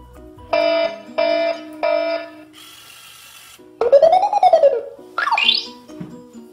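A LEGO WeDo 2.0 robot rover sounds its alarm: three short identical beeping tones, a burst of hiss, then a warbling rising-and-falling electronic siren and a final chirping squeal, loud and close.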